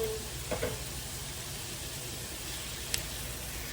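Shrimp and crab hit a hot pan for a creamy seafood Alfredo, giving a steady low sizzle with a couple of soft knocks and clatters as the pieces drop in.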